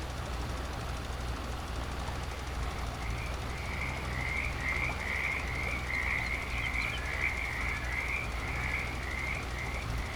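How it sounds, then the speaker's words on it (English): Frogs in a swampy river area in the game Hinterland keep up a continuous chorus of rhythmic croaks and trills over a low engine rumble, steady and moderately near. "Gonna love hearing that every time I drive by the frogs in the swampy area of the river."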